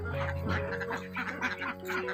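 Several egg-laying ducks on a farm quack in a lively, overlapping chorus, close by and fairly loud, with nasal calls repeating irregularly.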